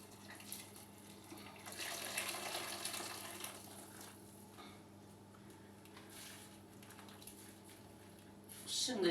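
Hot water poured from a kettle into a cooking pot of chickpeas, a soft steady splashing stream lasting several seconds, faint and close, with a louder clatter at the end.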